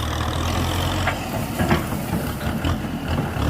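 A Kubota M6040 tractor, a 60-horsepower farm machine, runs with a steady loud diesel rumble and a few throttle surges close by, with no voices.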